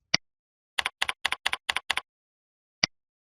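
Sharp, close key presses on a computer keyboard as a CAPTCHA is typed: one isolated tap, a quick run of about a dozen keystrokes in pairs, then a final single press after a pause.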